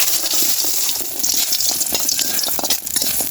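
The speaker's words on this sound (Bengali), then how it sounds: "তেল গরম হয়ে গেছে, আমি এই তেলের মধ্যে কুমড়ার বড়িটা ভেজে নিব" Pumpkin lentil dumplings (bori) fry in hot oil in a kadai with a loud, dense sizzle and crackle. It stays steady throughout, with bubbling spatters and no voices.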